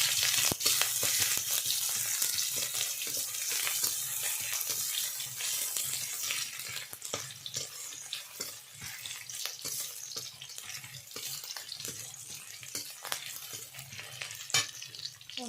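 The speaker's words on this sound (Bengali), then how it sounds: "রসুন এবং পেঁয়াজ ভালো করে ভেজে নেব।" Chopped garlic and onion fry in hot oil in a pan, a steady close sizzle broken by frequent scraping and stirring strokes of a spatula, with no talking.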